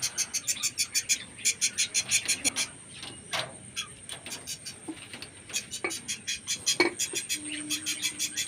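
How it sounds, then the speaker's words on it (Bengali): A budgerigar chick calls from inside its clay nest pot in a small home colony, giving a run of rapid, rhythmic high chirps and begging calls, close and fairly loud, with a few scattered clicks between bursts. "ওই দেখো, দেখতেই পাচ্ছ, ডাকছে বাচ্চাটা।"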